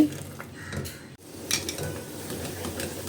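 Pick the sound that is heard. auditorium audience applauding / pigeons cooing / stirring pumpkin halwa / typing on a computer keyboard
stirring pumpkin halwa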